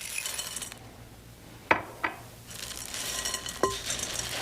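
Toasted corn cereal, mini pretzels, dried cranberries and chocolate-coated candy are tossed together in a bowl, giving a few light, sparse clinks and rattles over a steady background hiss.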